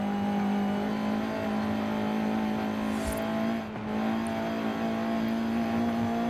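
A B16-swapped Honda CRX in Forza Horizon 5 holds a loud, steady engine drone with a sustained high rev and a brief dip midway as it runs down a volcano road.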